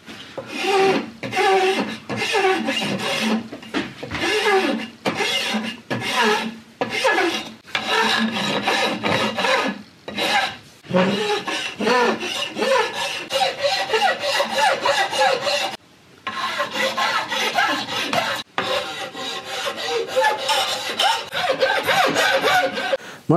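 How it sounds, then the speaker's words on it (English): A hand file rasping across wood and brass hardware on a Traditions St. Louis Hawken rifle stock, loud and close, in long repeated back-and-forth strokes with brief pauses between runs. "leaving the brass on and hitting this with a file to see if we can get this to look a little bit more flush with the hardware"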